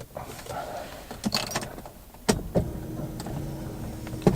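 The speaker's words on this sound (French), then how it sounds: "un toit ouvrant électrique" The electric sunroof of a 30-year-old Mercedes 230 CE W124 coupe runs, a low motor hum with clicks and mechanical knocks, heard close inside the cabin.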